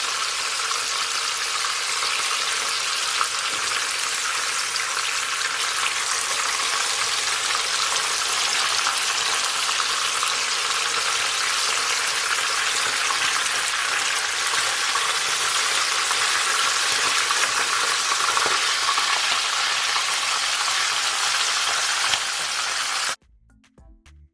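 Fish frying crisp in hot oil for a Jamaican escovitch dish, a dense, even sizzle that holds steady and loud without pause, then cuts off abruptly at the end.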